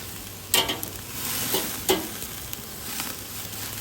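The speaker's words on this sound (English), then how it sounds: "So look at that yummy sear we're getting on this steak, huh?" Flank steak sears in a hot pan with a steady, close sizzle, punctuated by a couple of sharp clanks and scrapes as the meat is moved, no talking.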